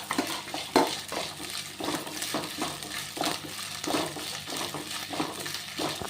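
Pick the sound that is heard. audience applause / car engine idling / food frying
food frying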